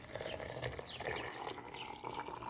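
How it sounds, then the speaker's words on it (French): Boiling water is poured over fresh mint and broken sugar cone in a teapot for mint tea: a faint, continuous trickling and splashing stream with soft gurgles, heard closely at low volume. "Et on recouvre avec de l'eau bouillante"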